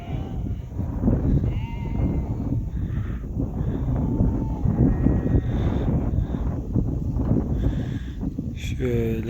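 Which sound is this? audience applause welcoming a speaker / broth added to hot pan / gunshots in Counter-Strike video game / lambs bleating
lambs bleating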